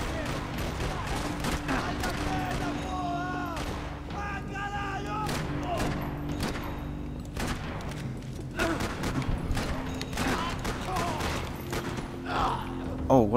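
Gunfire in the Max Payne 3 video game: repeated sharp shots and bursts scattered across the scene, mixed with game music and a voice talking over the action.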